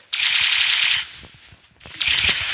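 Video game gunfire from CopNRobber: two loud bursts of rapid automatic shots, the first lasting about a second, then a brief pause before a second burst begins, heard up close and alone.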